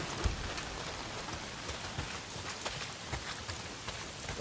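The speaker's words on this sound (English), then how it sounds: "Well, not if it's pissing down rain." Steady rain pours down in the video game Days Gone, a dense even hiss of drops filling the whole stretch with scattered louder spatters, with no voices over it.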